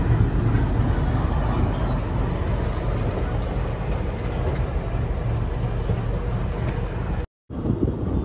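Vasco da Gama Express 17021, hauled by a WAP-7 electric locomotive with ten coaches, rolling out of Hyderabad, a steady loud rumble of wheels and rushing wind that continues unbroken, with a brief dropout near the end.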